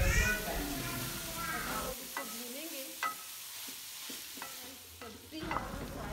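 Vegetables frying in oil in a pan for chicken macaroni, a soft sizzle under spoken talk, with occasional scraping taps of a spoon stirring.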